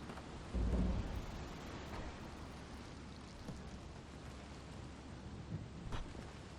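A thunderstorm in the fantasy RPG Tyranny: a steady hiss of wind and rain with a heavy rumbling thunder swell near the start, then a low rolling wash that lingers at moderate volume.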